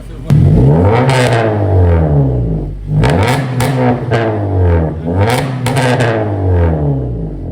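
A Honda Civic Type R FL5 engine revs up and down repeatedly through its exhaust, loud and close, with rising and falling pitch and a few sharp crackles between revs.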